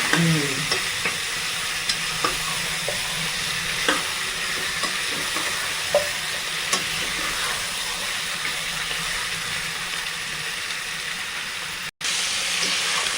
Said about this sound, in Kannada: ಚೆನ್ನಾಗಿ ಫ್ರೈ ಆಗ್ತಾ ಇದೆ